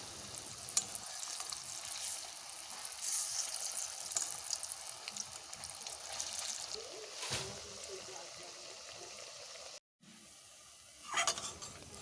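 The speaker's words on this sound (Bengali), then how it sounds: "সব কটা ভালোভাবে তুলে দিলাম কড়াইতে উল্টে পাল্টে করে লাল করে ভেজে নেবো" Raw banana koftas fry in a wok over medium heat, a steady close sizzle with occasional stirring scrapes and a brief drop to quiet near the end.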